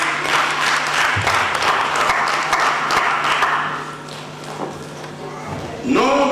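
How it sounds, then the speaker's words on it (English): A room full of people claps at a Nigerian community celebration in Milan, a steady crowded patter that thins out toward the end while someone talks over it. "Please can everybody clap for her."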